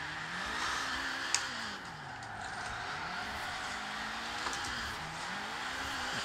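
A car in the racing game Forza Horizon 4 being drifted with the handbrake, its engine droning steadily with rising and falling pitch while tires hiss underneath, with a couple of brief sharp ticks and no talking.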